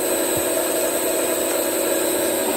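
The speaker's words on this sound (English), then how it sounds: "I've now mounted a tiny little boring bar into the lathe, and I can now just true this up to get it absolutely concentric" A small boring bar on a 1940s Excel metal lathe takes a very slight skim cut, giving a steady, continuous machining hiss and hum over a running motor, close and fairly loud.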